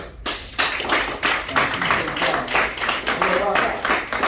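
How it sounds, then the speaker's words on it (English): Audience applause at a live poetry night, a dense crowd of clapping hands sustained throughout at steady volume, with some voices mixed in. "we're going to give a round of applause for each other"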